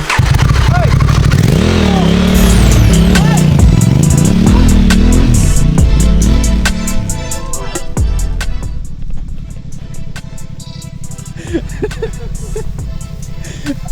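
A Honda Africa Twin 1100 adventure motorcycle on an off-road climb, its engine loud and close, easing down then revving hard to pull away, with some clatter and a voice faintly underneath.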